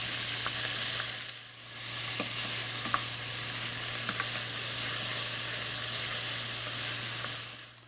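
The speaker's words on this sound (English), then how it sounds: "our onions are sweating down really nicely" Onions sauté in a pan with a continuous close sizzle and steady hiss, broken by faint clicks and light stirring scrapes, under a constant low hum and with no talk.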